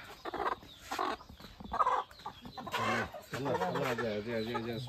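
A village country rooster, just caught with its legs being tied, clucks and squawks in bursts while people talk close by.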